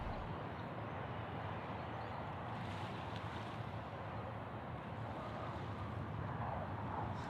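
An Air New Zealand airliner on the runway at Sydney Airport gives off a steady, broad engine roar, heard from a distance and fairly faint, with wind noise on the microphone and no speech.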